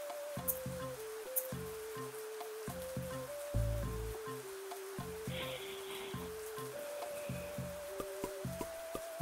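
Steady rain hissing in the gardening game Voodoo Garden, a soft constant wash beneath a looping stepped melody of game music with a brief low thump partway through.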